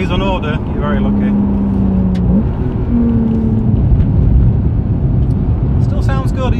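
A turbocharged four-wheel-drive Porsche engine revs and drones steadily under road and wind noise, with a rising whine as the revs climb, loud and close throughout.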